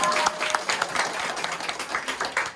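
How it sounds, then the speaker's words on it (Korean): Audience at a Korean business presentation clapping, a brief, fairly light patter of scattered hand claps at moderate distance, with no talking over it. "박수 한번 쳐주세요"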